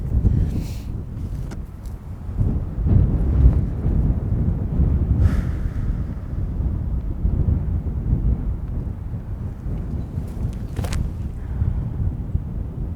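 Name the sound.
strong headwind blowing on a disc golf course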